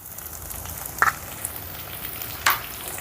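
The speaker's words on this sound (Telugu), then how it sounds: "ఇప్పుడు ఈ మొత్తాన్ని ఒకసారి కలిపేసుకుందాం" Ginger garlic paste with mint and salt frying in a pan, a faint steady sizzle with two distinct scraping stirs of a spoon, close and without voices.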